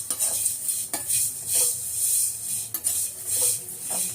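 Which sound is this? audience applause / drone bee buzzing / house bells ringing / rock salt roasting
rock salt roasting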